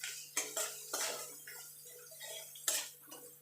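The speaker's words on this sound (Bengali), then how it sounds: "দিয়ে এই মশলাগুলো ভালো করে কষিয়ে নেব।" Spices are sautéed and stirred in a pan, heard as a series of soft metallic scrapes and clinks of a spoon against the pan, fairly quiet, with short gaps between strokes.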